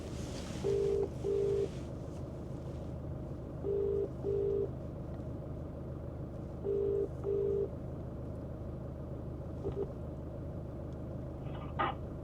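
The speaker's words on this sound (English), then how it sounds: "Let's phone the child." A telephone ringback tone on an outgoing call, short paired beeps repeating about every three seconds over a low car-interior rumble, with no talking.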